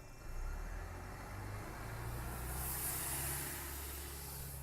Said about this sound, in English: TTC riders have been hearing the sounds of buses more often over the past few weeks.